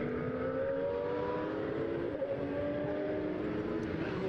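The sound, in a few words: Porsche race cars driving on track at Estoril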